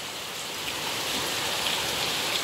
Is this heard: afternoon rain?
yes